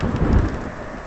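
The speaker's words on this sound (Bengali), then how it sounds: "রাতে প্রচন্ড ঝড় বৃষ্টিতে গোপালের ঘর ভেঙে পড়ে।" Heavy rain pours steadily with a deep rumble of thunder rolling underneath, loud and continuous throughout.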